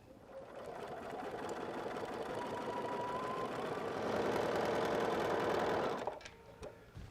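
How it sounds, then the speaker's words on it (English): A sewing machine runs steadily, stitching a quarter-inch seam on a fabric pocket, a continuous fast mechanical whir that gets slightly louder before stopping abruptly near the end, followed by a couple of faint clicks. "we're going to just sew a 1/4 inch seam on this pocket"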